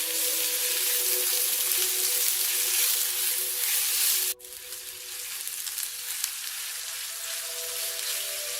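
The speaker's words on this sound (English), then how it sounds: "Toss in thinly sliced onions and let them sizzle away until they turn that delightful translucent gold" Thinly sliced onions sizzle steadily in hot ghee in a pan in a home kitchen, a loud continuous crackling hiss with a brief stir partway through and no talking.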